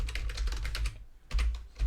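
Rapid keystrokes on a computer keyboard as a Discord invite link is entered, a dense burst of clicks, a short pause, then two more flurries, close and clear with no voices.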